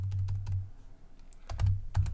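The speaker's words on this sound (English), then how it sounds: "Let me type the word." Quick bursts of typing on a computer keyboard, close and clear, with a few separate key taps followed by a faster cluster of keystrokes.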